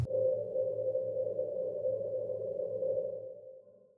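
A ghostly, ambient granular compression texture forms a hollow, breathy midrange drone that holds steady for several seconds, then thins and fades, quiet and smooth with no attack.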